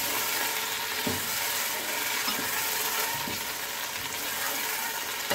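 Mutton sizzles steadily as it fries in a pot, a continuous hissing crackle with a few faint clinks of utensils and no talking.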